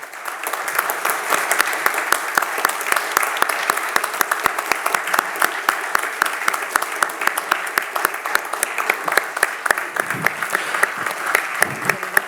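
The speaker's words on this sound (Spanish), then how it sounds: "Muy merecidos esos aplausos" Sustained applause from a standing audience honoring a former government minister and political science professor at a lecture event, dense steady clapping throughout with brief crowd murmur.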